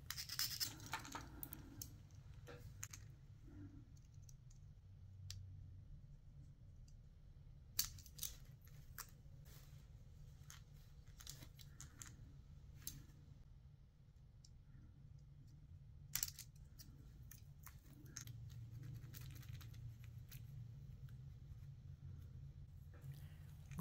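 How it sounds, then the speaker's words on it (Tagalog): Foil tape on a handmade fishing lure is rubbed down and trimmed, producing quiet, close scratching, small clicks and occasional sharp snips over a low steady hum. No talk is heard over it. "Kiskisin lang ng maigi para dumikit at tabasin yung mga sobrang foil tape."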